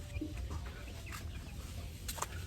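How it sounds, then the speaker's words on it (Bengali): Village chickens sit out in the sun and give a few low, scattered clucks close by over a quiet rural background. "মুরগিগুলো রৌদ্রে এই যে দেন রৌদ্র পাইতেছে"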